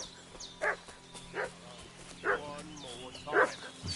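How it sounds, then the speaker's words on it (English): In the game Kingdom Come: Deliverance 2, a dog barks four times in an even rhythm, moderately distant, over a steady low ambient hum. "What's that dog making such a fuss about?"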